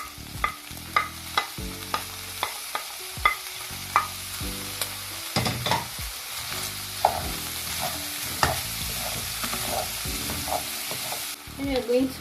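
Onions sizzle loudly in hot oil alongside pork being made into a wet fry, a continuous close frying hiss broken by repeated sharp spatula clacks and scrapes against the pan as they are stirred, no talking.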